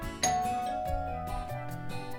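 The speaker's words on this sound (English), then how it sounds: "Nobody makes cookies like Grandma, said Ma as the doorbell rang." A doorbell rings once, a bright chime struck sharply that rings on and slowly fades over soft background music.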